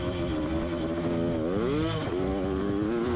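Vintage motocross bikes race on a dirt track with loud, continuous two-stroke engine whine that rises and falls as riders work the throttle, close and dominant.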